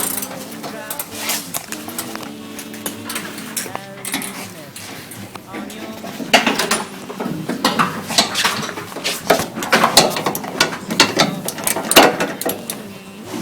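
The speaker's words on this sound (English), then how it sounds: "What size socket you got there, Rob?" A socket wrench ratchets and clicks while the engine is pulled from a 1971 VW bus, mixed with metallic clanks and tool handling, with people talking throughout.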